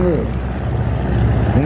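A Waco propeller aircraft built in Troy, Ohio drones steadily overhead at the Flying Circus airshow in Virginia, a continuous engine hum with a brief pitch sweep.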